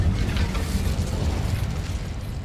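Incendio fire spell cast in Hogwarts Legacy, a loud, steady whooshing roar of flame with a deep rumbling body that holds for a couple of seconds without pause.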